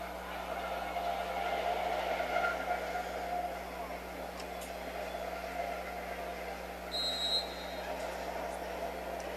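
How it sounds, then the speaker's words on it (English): A train rolls past a junior high football game, a faint, steady rumble and rail noise heard from a distance across the whole stretch, with a brief high squeal or whistle near the end. "First train of the afternoon going by."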